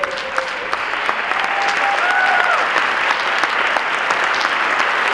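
Sustained applause from a sizeable audience at a school district event, steady and dense for several seconds, with a few faint voices and whistles mixed in.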